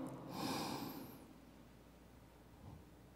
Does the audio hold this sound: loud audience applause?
no